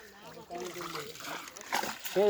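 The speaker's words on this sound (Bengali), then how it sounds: "বড় জালি ফেলছি বড় জালি" A large fishing net is cast into water while catching mola fish, with a brief splash and slosh near the end. Voices talk over it throughout.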